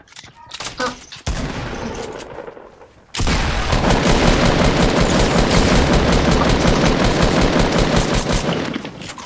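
Rapid automatic gunfire in a video game, loud and close, starting in short bursts then turning into a sustained dense volley; a voice speaks briefly early on.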